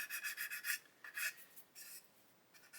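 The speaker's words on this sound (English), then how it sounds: "So I'm going to use this little skinny sander. I'm using a Flory skinny stick." A Flory skinny sanding stick rubs on a 1/72 Airfix Lancaster B.III Dambuster plastic model. It makes faint, close, scratchy strokes in quick rhythmic bursts, thinning out toward the end.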